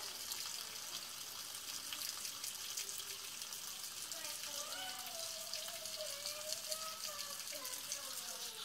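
Water poured off saved tomato seeds, draining as a steady, even rush like a running tap, with faint talk in the background throughout.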